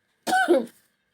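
A single short, harsh cough burst, close and fairly loud, followed by silence.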